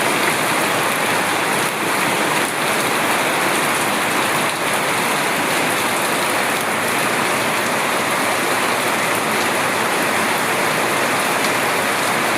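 Heavy monsoon rain pours steadily in the Andaman Islands, a dense, even hiss of water with no let-up, loud and close.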